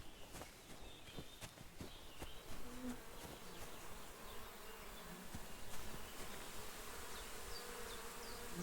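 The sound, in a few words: buzzing bees in the video game Kingdom Come: Deliverance II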